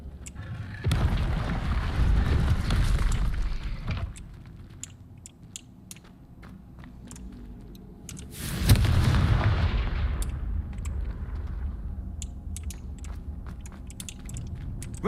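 Confringo blasting-spell explosions in a Harry Potter video game, two heavy booming blasts several seconds apart, each rolling on with a long rumbling tail, with sharp crackling and debris clicks between them.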